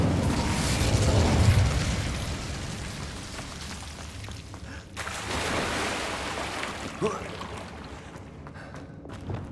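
The Incendio fire spell cast in Hogwarts Legacy, a loud whooshing, rumbling burst of flame that fades into crackling, followed by softer magical rustles and a brief pop.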